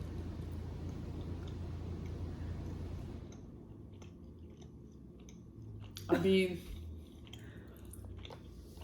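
A person chews a cinnamon Trader Joe's snack, close soft crunching and squishy mouth sounds with a few clicks, and a brief spoken remark breaks in partway through.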